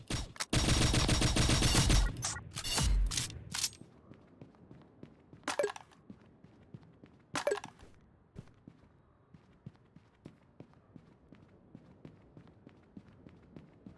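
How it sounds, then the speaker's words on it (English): A semi-automatic shotgun fires in the game Pixel Gun 3D. There is a loud, rapid burst of close blasts, then a few spaced single shots that fade into light footsteps and quiet game ambience. "Semi-automatic shotgun."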